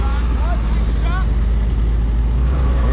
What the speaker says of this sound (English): Here you got your military vehicles moving out,